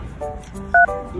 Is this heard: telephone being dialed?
yes